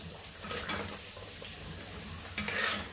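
Beef fries in oil in a pan, with a soft sizzle and scraping stirs, quiet and close, and one sharper clink near the end.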